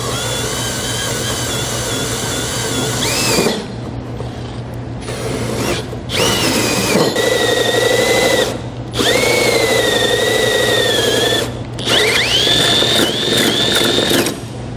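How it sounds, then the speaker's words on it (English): A drill drives a 4 3/8 inch hole saw through material to mount a Brophy swiveling D-ring anchor, whining loud and close in several long bursts. Short pauses separate the bursts, and the pitch changes as the saw bites and releases. "I'm using a 4 3/8 inch hole saw."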